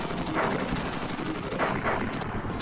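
Dense, continuous gunfire from an arcade shooting game set in an amusement park, firing the default bullets in a steady rapid stream that fills the whole stretch at full loudness.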